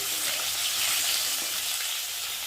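Fish fries in hot oil with a dense, constant sizzle that stays loud and steady throughout, close to the pan with no voices.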